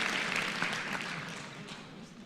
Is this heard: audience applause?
yes